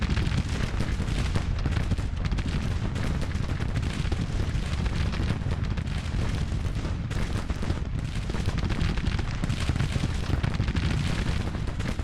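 Massed musket fire from infantry flanking an enemy line in Grand Tactician, a nineteenth-century battle game, rolls on as a continuous rumbling crackle of overlapping volleys and booms, steady and dense throughout with no talk.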